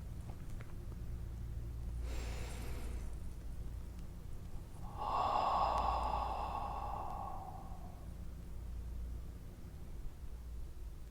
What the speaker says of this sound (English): Okay, so that was 3 deep breathings.